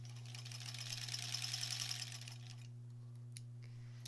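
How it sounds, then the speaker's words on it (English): Sewing machine stitching along a diagonal line on quilt fabric, a quiet rapid whirring run for about two and a half seconds that stops, leaving a steady low hum and a faint click. "we've sewn on either side of that diagonal line again"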